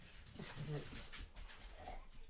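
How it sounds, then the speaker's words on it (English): Dogs whimper and make short, soft yelps indoors, faint and mixed with low household noise, with people audible in the background. "No, or was it just the dogs?"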